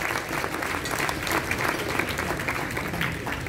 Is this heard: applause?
yes